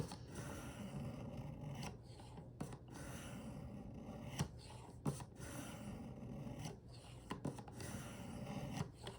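A knife blade is drawn in repeated rhythmic strokes across a fine sharpening stone on a Work Sharp guided sharpener, a soft close rasping scrape with brief pauses between passes and no talking.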